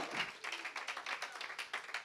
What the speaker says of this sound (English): Somebody ought to clap their hands and tell God, thank you.